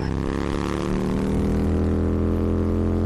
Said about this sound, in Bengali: দেখলি তো মিচকে আমার বাইকের টান